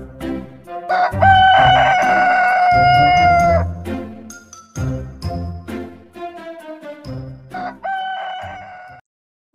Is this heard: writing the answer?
no